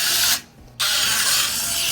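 Wall-climbing toy car running with a steady, loud whooshing suction hiss like a small vacuum cleaner, close by, briefly cutting out for a moment before resuming.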